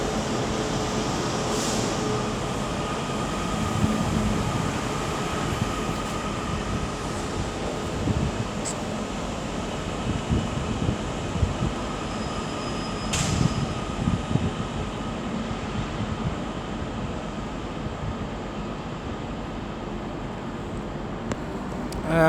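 Trains at Liverpool Lime Street station rumble and hum under the train shed, with a low steady engine drone, occasional clanks and a faint distant tone.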